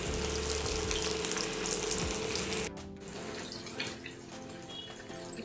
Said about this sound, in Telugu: సో చూడండి ఫిష్ ఫ్రై బాగా కాలింది.